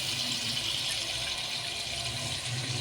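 Tamarind water pours into a pot of spicy peas pulao, a steady close splashing stream that runs without a break and stops abruptly at the end.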